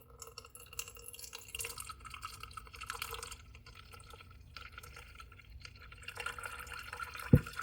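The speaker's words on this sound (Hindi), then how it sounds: "यहाँ पे छान लेंगे" Thick sweet-and-sour chaat chutney being strained through a sieve, giving soft wet drips and liquid trickles that continue steadily, ending with one sharp clink near the close.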